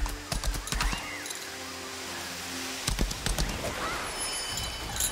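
Rhythmic hoofbeats of a horse in the video game Lost Ark clip-clop at a steady gallop over a constant background hum, with a few clicks and brief pauses.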